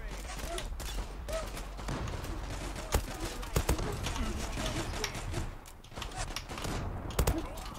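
Glock 18 pistol in the Zula shooter game, firing in rapid bursts of sharp cracks among constant in-game noise and footsteps, with someone talking over it.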